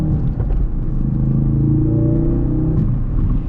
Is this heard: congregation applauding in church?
no